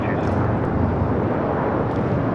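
An Airbus A319 airliner of Legion Air landing on runway 25 left at LAX in gusty wind, a loud, steady, broadband jet roar held close throughout the short stretch.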